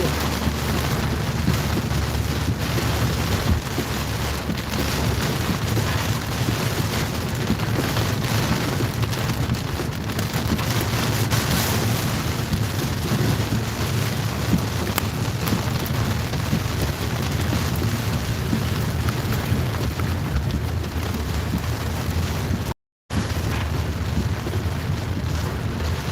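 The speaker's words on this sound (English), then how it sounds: "This has certainly been the storm we've been waiting for." A fierce storm roars continuously at the Lickey Hills, North Worcestershire, with loud wind buffeting the microphone throughout and a brief drop to silence near the end.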